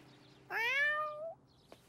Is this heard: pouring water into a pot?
no